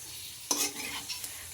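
Chicken fry being stirred in a pan with curry leaves and chilli: a sharp scrape at the start, then continuing sizzle with a few lighter clinks and stirs, close and fairly quiet, with no voices.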